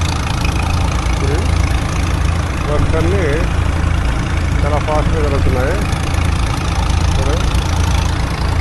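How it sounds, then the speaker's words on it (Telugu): A dewatering pump engine at a flooded construction site drones steadily throughout, loud and close, with someone speaking over it. "ఇటు పక్క మిషన్ల దగ్గరికి డివాటరింగ్ ఇంజిన్ దగ్గరికి చూడండి"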